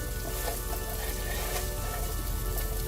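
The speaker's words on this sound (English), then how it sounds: "Give it a good stir" Okra and potatoes frying with lentil powder in a pan, a steady close sizzle and crackle with faint stirring scrapes throughout.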